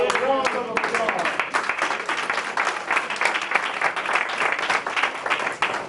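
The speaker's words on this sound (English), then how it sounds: "Give the Lord a round of applause." A church congregation at a blessing ceremony gives a round of applause. Distinct claps merge into a lively, uneven roar that stays loud throughout, with a speaking voice heard over the opening moment.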